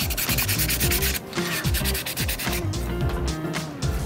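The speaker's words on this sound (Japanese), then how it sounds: "これドライ用のペーパーやすりなんだよね。 まあだいたい800番相当なんだけど" Dry sandpaper of roughly 800 grit rubbed by hand on a part of a 1/6-scale Tamiya Honda CB750 Four plastic motorcycle model, making close, continuous scratchy back-and-forth strokes in a steady rhythm.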